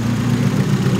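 A Honda/Acura engine fitted with a Burton Racing coil-on-plug kit idles steadily up close, its muffler a little louder than usual, with a constant low, even drone.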